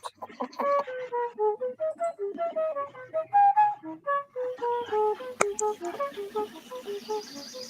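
A penny whistle plays a quick, bright melody of short stepping notes, fairly soft and alone, with a sharp click partway through.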